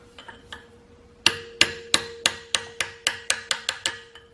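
Hammer driving a chisel to loosen an axle nut on a Toyota solid axle: about a dozen sharp metallic strikes, two faint taps first, then loud blows in a steady, gradually quickening rhythm, close up with no talking.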